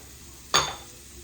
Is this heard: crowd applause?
no